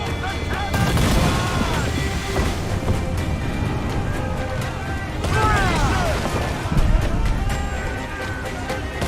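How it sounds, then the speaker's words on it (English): Ship cannons fire in the pirate naval battle game Assassin's Creed IV Black Flag, a dense, continuous barrage of booms and crashing impacts mixed with chaotic battle noise, with shouting crew voices heard throughout. "Uncork the cannon!"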